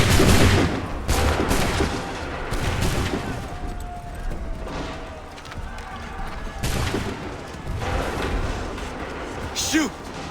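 Assassin's Creed 3 musket volleys ring out again and again, each one a loud, sharp crack with a rolling echo. Shouted orders come between the bursts, against a busy battlefield din.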